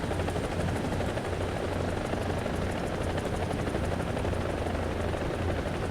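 Mi-24 Hind attack helicopter in the War Thunder video game: a loud, steady rotor and turbine roar with a rapid low thumping beat, continuous throughout, with faint gunfire-like crackle mixed in.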